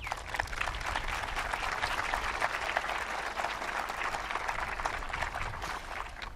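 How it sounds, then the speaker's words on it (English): An Australia Day citizenship and flag raising ceremony crowd gives a warm round of applause for flag bearers and a children's choir, dense steady clapping from many hands throughout, fairly distant and even. "let's give our flag bearers and the Luminescence Children's Choir a warm round of applause."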